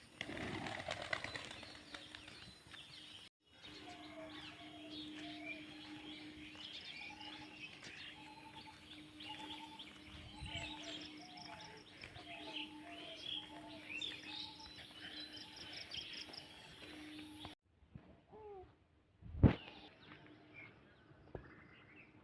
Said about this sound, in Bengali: এই যে দেখেন কত সুন্দর কবুতর,